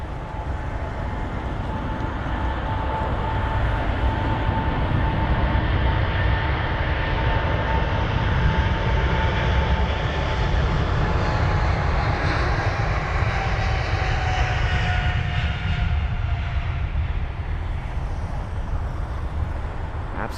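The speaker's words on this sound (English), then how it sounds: "Now we'll move on to watch the Thai Airways 777." A Thai Airways Boeing 777 on flight TG911 to Bangkok takes off from London Heathrow, its engines a loud, sustained jet roar with a steady whine that runs unbroken for the whole stretch, with no talk over it.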